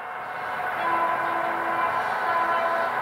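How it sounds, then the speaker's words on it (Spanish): An H0-scale model train horn sounds a steady, sustained tone for a couple of seconds over a constant background hum, moderately loud and unbroken. "Hemos dejado en automático las bocinas"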